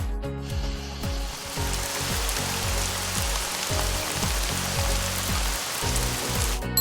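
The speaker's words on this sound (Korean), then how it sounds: "빗소리" Steady broadband rain hiss playing continuously as a recorded white-noise track, with a soft low-frequency musical or tonal pattern pulsing underneath throughout; no talking.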